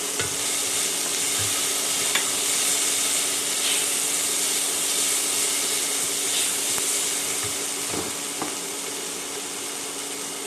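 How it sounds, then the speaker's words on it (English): Steady sizzling and frying from a hot pan of vegan jackfruit seed curry as ginger is added, a continuous hiss with occasional stirring clicks and scrapes, close and fairly loud with no talking. "We're going to add our ginger."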